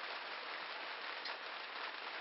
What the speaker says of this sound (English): it's pissing down, raining, as it always is in Wales